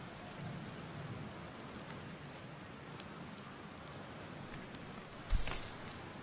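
Rain falls steadily in the video game Outer Wilds, a soft continuous patter with a brief louder splash near the end and no voices.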